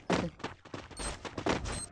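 Bursts of gunfire in the mobile shooter Garena Free Fire, several rapid shots in uneven clusters, fairly close and loud, with no talk over them.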